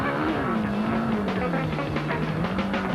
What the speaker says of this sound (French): Je vous laisse rêver aux commandes de la moto numéro 100.